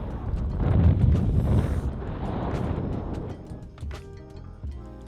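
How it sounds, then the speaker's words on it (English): Steady, loud wind buffeting the microphone, a low roaring rumble that swells and eases throughout with no voices. "Pretty nice up here, but super windy."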